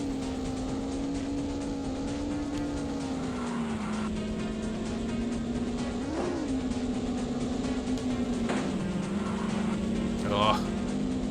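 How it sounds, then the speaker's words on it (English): A car engine drones steadily in the Top Gear Rally racing game, its pitch shifting slightly with throttle under faint tire and road noise. The engine keeps going throughout with no clear voices. "I'll celebrate by turning down the car sound effects"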